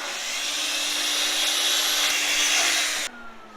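A power saw cuts through a wooden piece during a drill press cabinet refurbish, a steady high whine running for about three seconds and then cutting off sharply as the blade spins down.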